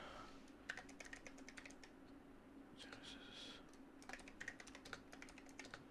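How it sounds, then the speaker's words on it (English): Quiet clicking on a computer keyboard comes in short bursts of rapid keystrokes with brief pauses between them, set against a faint steady background hum. "I'm typing down these things on a bullet list so that it gets posted in here."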